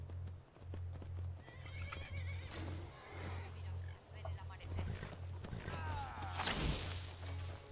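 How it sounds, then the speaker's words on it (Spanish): A horse in the video game Skyrim clip-clops with steady hoofbeats under a constant low game hum, then gives a clear whinny near the end while someone speaks. "¿y ese caballo?"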